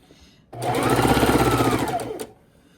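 A sewing machine chain stitches quilt pieces in one close, loud burst of rapid, even stitching lasting under two seconds, starting and stopping abruptly.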